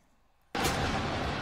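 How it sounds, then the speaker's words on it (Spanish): Fireworks go off at WrestleMania 40 in a stadium, a sudden loud blast after quiet followed by a sustained roaring crackle and crowd noise. "Ahí están los fuegos artificiales en esta noche."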